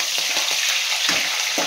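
Green chillies dropped into hot oil in a frying pan for tomato gojju, giving a loud, steady sizzle and crackle that stays dense and continuous throughout.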